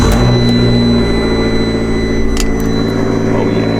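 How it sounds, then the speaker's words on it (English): A car engine idles loud and close just after a cold start, heard from inside the car as a steady low rumble with faint high whine and a couple of brief clicks. "I always give it a cold start with the exhaust, but let's do a cold start within the car."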